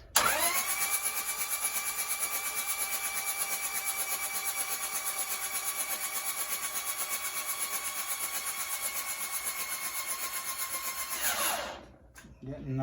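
Toyota 1PZ diesel engine cranking on a cold start, a steady loud starter whir with rapid rhythmic pulsing that runs for about eleven seconds without catching, then cuts off.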